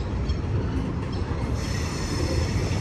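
CSX freight train W018 with a caboose rolling across the Schuylkill River Viaduct: a loud, steady rumble of wheels and rail cars, continuous and close, with no talking.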